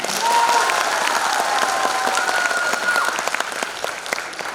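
Sustained applause from a crowd at a 75th Corps Day diamond jubilee celebration, cheering one team in a competition; dense, steady clapping that holds loud for several seconds with a few faint tonal sounds mixed in.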